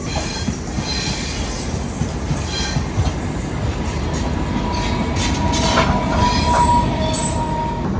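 The Trivandrum–Chennai Super AC Express rumbles steadily along the fast line of a double track, with loud low rolling noise, rhythmic wheel clatter and occasional thin metallic squeals.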